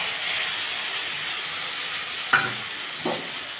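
A paste of ground cashew, melon seed and tomato goes into a hot pan for a vegetarian broccoli curry. A steady close hiss of sizzling runs throughout, broken by two short soft plops near the end, with no voices.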